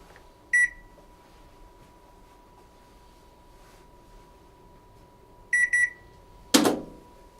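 A Panasonic NA-JFA803 top-loading washing machine beeps as its child lock is set: a short electronic beep, then a pair of beeps later, followed by a brief louder click or clunk, all close and alone over quiet hum.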